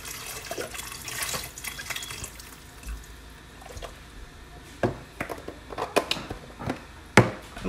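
Chicken stock poured into a cooking pot for homemade chicken soup, a continuous watery splashing and trickling with scattered drips and clinks, louder toward the end.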